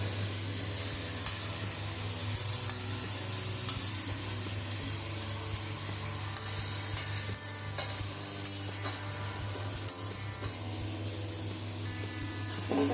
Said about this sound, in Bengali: মশলাটা ভাজা হয়ে গেছে, এর মধ্যে ধুয়ে রাখা চাল আর ডাল এর মধ্যে দিয়ে দেবো